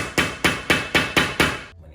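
Six evenly spaced, sharp hammer blows drive needles into a wooden tufting frame for a DIY rug, each strike close and loud with a quick decay, the series stopping abruptly.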